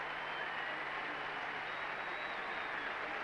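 Faint, steady applause from the crowd at the 1979 Wimbledon final for Roscoe Tanner after his five-set match against Bjorn Borg, heard as a distant, even wash of clapping.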